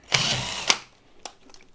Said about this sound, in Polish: wiertło nie chce przejść, bo mamy dwa takie ząbki